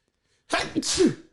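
A single close, loud human sneeze bursts out of silence, a sharp breathy inhale-and-explosion lasting under a second, alone with no talk around it.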